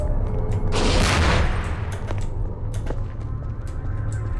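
Gunfire in the Portal video game: a loud, dense burst of rapid shots or an explosion near the start, then fading rumble and scattered mechanical clicks.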